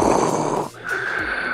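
A voice imitating Darth Vader's mechanical breathing, one long raspy inhale followed by a hissing exhale, close to the microphone and heard alone.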